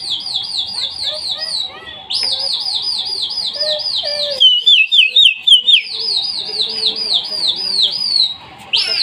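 Pigeons on a Hyderabad rooftop among lively birds: repeated high chirps and whistled calls ring out close and steady, with a few quieter lower notes and brief pauses between bursts.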